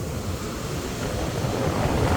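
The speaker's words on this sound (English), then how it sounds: "the waves are so huge today, this morning" Huge typhoon waves crash continuously onto a shore lined with gabion walls, a loud, dense roar of surf mixed with heavy wind buffeting the microphone, with no voices.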